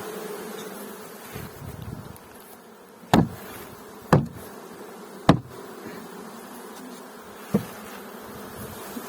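A swarm of bees hums in a steady, close drone throughout, with a few sharp knocks from handling beehive frames and a hive standing out over the buzzing.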